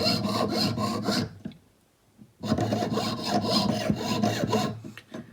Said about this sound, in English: while you're sawing and you're turning your metal